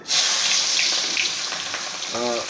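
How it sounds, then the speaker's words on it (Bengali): Chopped onions sizzle steadily in hot oil, frying hard until dark, a loud continuous hiss close by with a brief voice near the end. "এই পেঁয়াজটা আমি একটু ভেজে, কড়া করে ভেজে একদম কালা করে ফেলব খুব সুন্দর করে"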